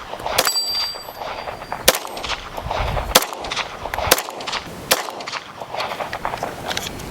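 A Tisas B9R DS pistol fires at a 6-inch steel plate, with about six loud, evenly spaced shots and metallic clangs from hits, heard close up with no talking.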